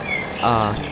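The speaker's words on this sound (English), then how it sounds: "You can just hear the birds chirping" A brief, close bird chirp, a bright warbling tweet lasting about a second over faint background noise.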